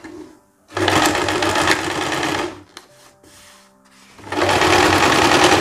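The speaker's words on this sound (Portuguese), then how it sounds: "Tá passando as costuras e costurando as laterais dessa saia." Sewing machine stitching the side seams of a skirt, two loud close bursts of rapid rhythmic whirring separated by a short pause with faint handling noises.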